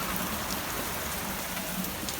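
Heavy monsoon rain pouring down steadily, a dense close hiss of drops drumming on surfaces, constant and loud throughout with no voices.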